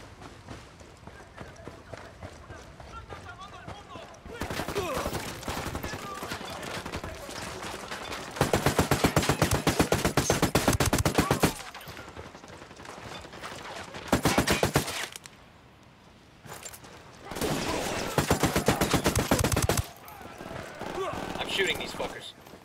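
In Ghost Recon Wildlands, loud automatic gunfire comes in long sustained bursts separated by quieter stretches, with someone talking at times between and over the shooting.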